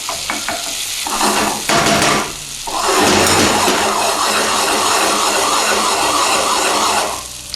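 A tofu omelette sizzles in a hot pan while a spoon stirs, pokes holes in it and pulls it together, giving steady close frying crackle with scraping strokes throughout.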